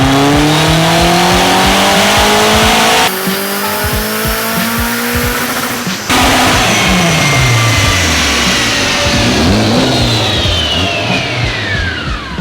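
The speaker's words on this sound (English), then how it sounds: "It's literally the Power FC limiter." A Nissan S13 engine screaming on a dyno and bouncing off its Power FC rev limiter, a loud sustained high-rpm roar with rapid stuttering cuts before winding down, no talking.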